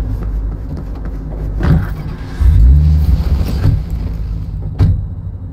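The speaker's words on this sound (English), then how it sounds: "I'm driving." A car in the video game Cyberpunk 2077 drives off with a loud, close engine rumble that swells and surges, accompanied by a couple of sharp knocks, with no one speaking.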